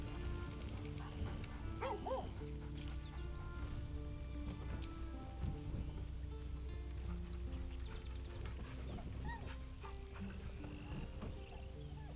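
A dog barks in the fantasy video game Baldur's Gate 3, a few short, moderately distant barks scattered over a soft, constant ambient background.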